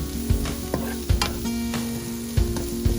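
Chicken sausage and bean sprouts stir-fried in a pan: steady close sizzling, punctuated by several sharp scrapes and knocks of the spatula against the pan at irregular intervals.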